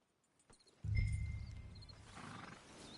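A horse in Red Dead Redemption 2 gives a sudden snort and low whinny, fairly close, followed by softer breathy rumbling and faint hoof movement against quiet ambience.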